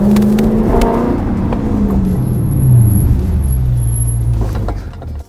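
A Dodge Daytona daily driven on Power Stop PST track brake pads gives a high, thin brake squeal over the loud, steady hum of road and engine noise, holding for several seconds before fading as the car slows.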